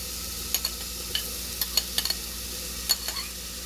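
Bottle gourd (dudhi) tipped into a cooker with tomatoes, soft scattered stirring clinks and faint sizzling under a quiet background hiss.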